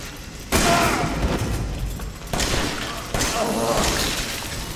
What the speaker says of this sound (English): I'm sitting there shooting him with a shotgun in the head.